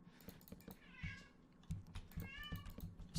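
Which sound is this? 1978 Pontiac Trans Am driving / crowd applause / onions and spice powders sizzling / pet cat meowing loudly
pet cat meowing loudly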